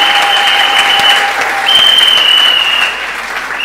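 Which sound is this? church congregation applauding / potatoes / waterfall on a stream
church congregation applauding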